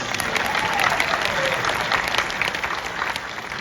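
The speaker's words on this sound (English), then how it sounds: "Give her a round of applause." A convention panel audience at the Cobra Kai event in Atlanta claps steadily throughout, a dense, even round of applause from a large crowd with faint voices underneath.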